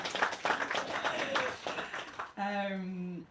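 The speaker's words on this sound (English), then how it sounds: "if we could give a warm round of applause" A small audience at a book event for author Emma Healey claps briefly at close range for about two seconds, then a voice speaks after the clapping fades.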